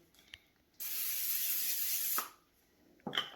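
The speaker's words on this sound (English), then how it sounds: "We need to spray it first." A steady hiss of cooking spray runs for over a second, close and clear, with small clicks of the can before and after.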